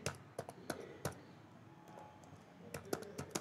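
Someone types Python code on a computer keyboard nearby, producing scattered, crisp key clicks in short clusters separated by quiet gaps.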